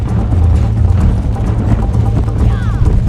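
Horse hooves gallop steadily in Red Dead Redemption, a dense rhythmic clip-clop with a low rumbling bed, continuous and close, under game speech and surrounding noise.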